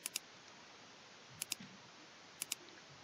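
A computer mouse clicks softly in close double clicks, three quick pairs spread evenly over a few seconds against a quiet background.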